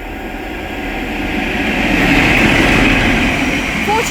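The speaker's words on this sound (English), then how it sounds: "The next train to pass by is going to be a GBRF pairing of class 47s from Ilford EMUD to Northampton EMD." A GBRF pair of class 47 diesel locomotives passes on the West Coast Main Line at Leighton Buzzard, a steady broad rumble and rush that swells gradually and stays loud and close throughout.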